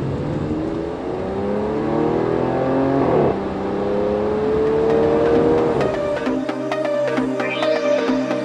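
A car cruises along the road toward Portofino, its engine droning loudly and steadily up close, with rising pitch as it accelerates and a gear change partway through.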